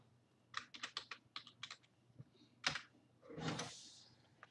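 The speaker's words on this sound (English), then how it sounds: "And there I am, typing to myself." Bursts of computer keyboard typing, quiet and close, with clustered rapid keystrokes in short runs and a longer shuffle of clicks near the end, no voices.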